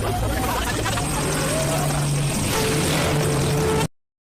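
Loud, steady helicopter rotor drone with a whining engine tone in a Bhojpuri film action scene, close and sustained, cutting off abruptly at the end.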